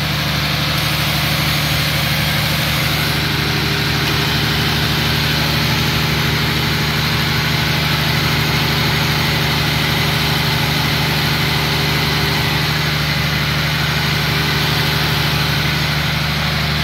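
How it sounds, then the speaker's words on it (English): A Jeep Pentastar engine with a spin-on oil filter adapter starts up and settles into a steady, loud idle with a constant low rumble and hum that continues unchanged to the end. "So we're going to go ahead and crank it up now and go ahead, hit it."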